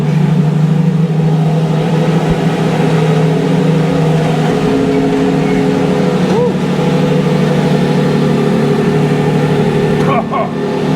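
A Lamborghini Revuelto V12 engine rumbles loud and close at a steady idle after starting, with a couple of brief rises in pitch as it's blipped.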